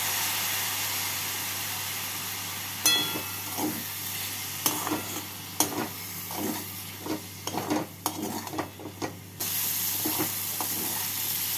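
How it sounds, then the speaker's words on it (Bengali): Egg keema curry masala with a little water sautéing in a pan, a soft steady sizzle under a run of irregular scraping and clanking spoon strokes through the middle, then a calmer hiss. "এবার এর মধ্যে অল্প জল দিয়ে কষিয়ে নেব।"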